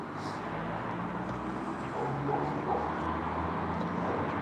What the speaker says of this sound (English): Some big dogs in this garden next to me. Huge dogs. American Akitas.